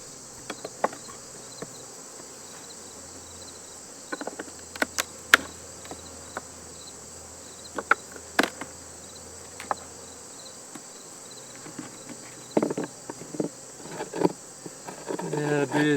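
Bees drone steadily around an open beehive during a beekeeping session in West Virginia, a continuous buzzing close by, broken by scattered clicks and knocks from handling the hive frames.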